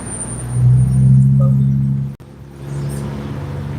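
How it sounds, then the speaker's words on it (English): A rat rod pickup truck rumbles past up close with a low, throaty engine drone that swells, cuts off abruptly for an instant, then continues at a steadier, quieter hum. "There's a rat rod pick 'em up truck."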